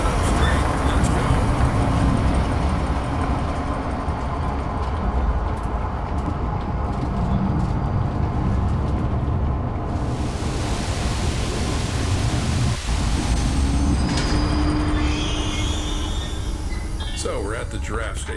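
A train starts and runs along in the Zoochosis video game, heard as a steady, loud rolling rumble with broadband hiss that carries on throughout.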